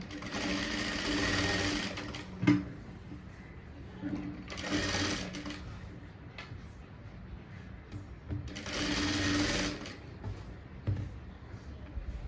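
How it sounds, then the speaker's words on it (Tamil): A sewing machine top-stitches a blouse in two long bursts of steady motor whirring, with quieter handling and rustling of the fabric in between. "இப்போ இதில் வந்து மேல் தையல் போட்டுவிடலாம்"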